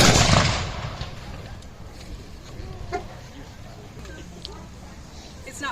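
An 18th-century musket volley fired during a drill demonstration at Colonial Williamsburg, Virginia: one loud, sharp blast at the start that rolls off into a fading echo, followed by quiet outdoor ambience and a low murmur of people.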